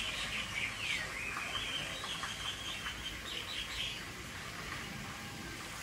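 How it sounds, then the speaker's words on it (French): Rose-ringed parakeets call at Bali Bird Park, a faint wash of high chattering and chirps over steady background hiss, with no voices. "Ça ressemble à une perruche à collier."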